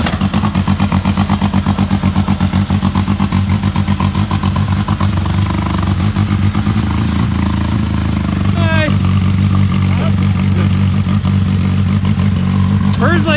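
A Textron Wildcat XX side-by-side fitted with a new exhaust revs repeatedly in rapid, choppy bursts, then settles into a loud, close, throaty drone, with brief voices heard near the end.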